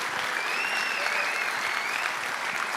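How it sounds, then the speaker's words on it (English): Loud, steady applause from a large audience at a flight simulation expo, continuous clapping filling the whole stretch, with a faint whistle-like tone drifting through it. "let's give them a big round of applause right now for putting this on for us"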